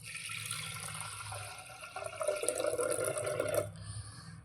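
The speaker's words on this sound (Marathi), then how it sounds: "ह्याच्यामध्ये पाणी ॲड करायचं आहे" Water pours steadily into a pot of washed lentils, a continuous running splash that swells louder midway before stopping abruptly, close and alone without talk.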